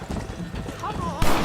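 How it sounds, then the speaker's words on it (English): Horse in the Western game Red Dead Redemption, hooves clip-clopping and a brief whinny amid gunfire-era game noise, with a voice talking over it and a loud burst near the end. "You see him get back on that horse?"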